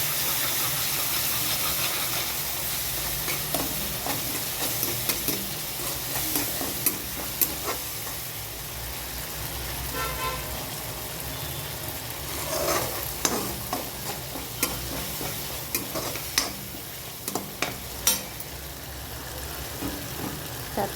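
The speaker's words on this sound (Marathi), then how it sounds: "दही टाकलं की गॅस पटकन बारीक करून घेऊन हलवायचं," Curd is stirred into spiced okra frying in a pan: a steady, close sizzle and hiss runs throughout. Repeated scraping strokes of the spoon rise above it, getting busier toward the end, with no talk.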